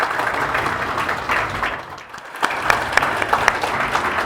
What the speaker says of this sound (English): Please welcome Mr. Bickerstaff with a big round of applause.